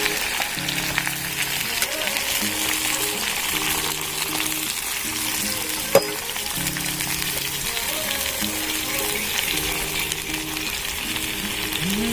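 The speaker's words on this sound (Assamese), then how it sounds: "তেলখিনি গৰম হৈ গ'ল এতিয়া আমখিনি দি দিম মই" Mango pieces fry in hot oil for a pickle, a steady loud sizzle with crackling that runs the whole time, along with occasional stirring clinks and a faint rhythmic mechanical hum underneath.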